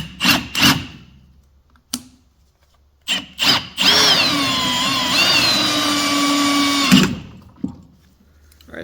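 A Milwaukee power drill bores a pilot hole through a metal panel, whining loudly and steadily for about three seconds after a few short bursts, then stopping.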